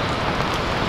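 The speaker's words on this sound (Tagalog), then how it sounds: "Malakas po yung ulan sa labas." Heavy rain pouring down outside, a dense and steady broadband hiss of drops drumming on a surface, loud and continuous with no voices.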